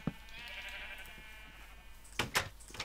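Sheep in a Minecraft-style video game bleat twice in quick succession near the end, after a faint drawn-out tone, fairly close and clear with no talk.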